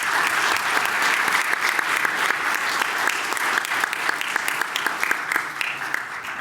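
A conference crowd at a microreactor deployment session applauds the panel, sustained thick clapping that stays even and fairly loud throughout.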